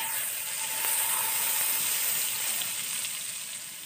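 Butter sizzling steadily in a hot pan, a dense, continuous crackling hiss that stays loud and even throughout with no voices.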